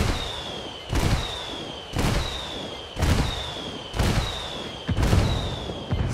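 Mortar rounds exploding in the video game Ghost Recon Wildlands, about six heavy booms landing roughly once a second, each a sharp blast trailing into a rumbling decay, with a thin whistling tone above them.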